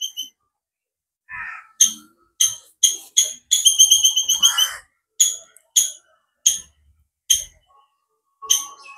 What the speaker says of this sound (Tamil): அதே நேரம் பறவைகள் இந்த சத்தம் வந்து கொண்டே இருக்கு.